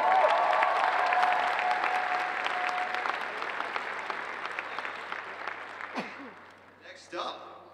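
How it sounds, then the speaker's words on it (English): Audience at a cosplay competition breaks into loud, dense applause that slowly thins and fades, and a voice speaks over the last of it. "let's give her a round of applause"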